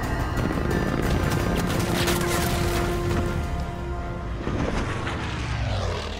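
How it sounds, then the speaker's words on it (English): A German warplane roars overhead in the video game Battlefield 5, a loud sustained engine drone over heavy battle noise that thins out and bends in pitch as the aircraft passes. "German plane."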